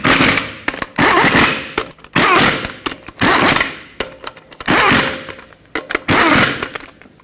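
An impact wrench tightening lug nuts on the wheel of a 2004-2012 Chevrolet Colorado 4x4, loud rattling bursts repeated about eight times in quick succession with short pauses between, close and clear.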